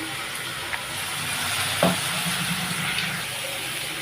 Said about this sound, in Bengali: ফোড়নে দিচ্ছি গোটা তেজপাতা গোটা জিরে